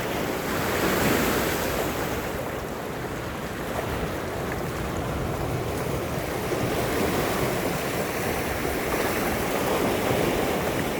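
A wide river in flood flows broad as the sea, a constant, loud, rushing roar of water with wind buffeting the microphone throughout, steady for the whole stretch with no voices.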